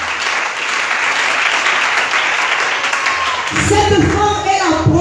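A church congregation applauds and cheers loudly in praise, dense continuous clapping and shouting, with a voice calling out over the crowd near the end.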